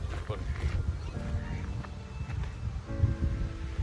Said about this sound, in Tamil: நிறைய வாத்துங்க